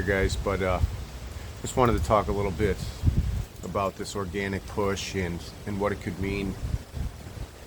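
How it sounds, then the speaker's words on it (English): Outdoors, gusty wind buffets the microphone with low rumbling bursts underneath someone talking steadily throughout. "sorry about the wind here"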